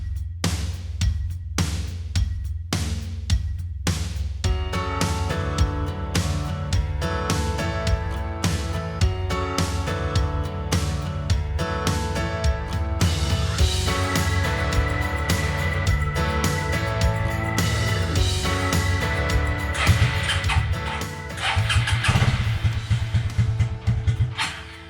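A Suzuki King Quad 300 ATV engine cranks in quick pulses on full choke, then catches and runs loud and steady at a droning idle, with a brief dip near the end and no talking.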